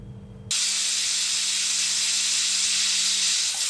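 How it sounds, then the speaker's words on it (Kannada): A pressure cooker holding palak chicken gravy lets out a loud, steady hiss of escaping steam that starts abruptly and runs on unbroken, close up, with no voices. "ಒಂದು ವಿಷಲ್ ಬಂತು ಎರಡು ವಿಷಲ್ ಆಯಿತು ಸಾಕು ಆಫ್ ಆಗಿಬಿಡೋಣ"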